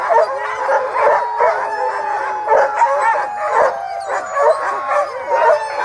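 A chorus of sled dog teams howls, yips and barks together at an Iditarod checkpoint, loud and continuous with overlapping voices rising and falling.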